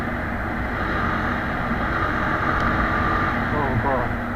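A Yamaha R15 V3 sport motorcycle with a slipper clutch is ridden through a corner, its engine a steady, loud drone blended with rushing wind, with a rider talking over it.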